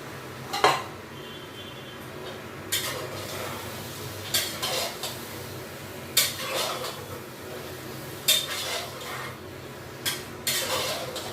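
Marinated chicken going into a pan of cooked-down spices, with a metal spoon scraping and clinking against the pan at irregular intervals over a soft steady sizzle.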